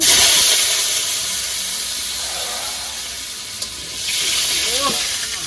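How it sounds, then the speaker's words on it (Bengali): Potatoes drop into hot salted oil over an open outdoor fire on a winter night, setting off a loud, steady hiss and sizzle that swells again near the end as someone talks over it. "আলুগুলো দিয়ে দেবো ভাজার জন্য।"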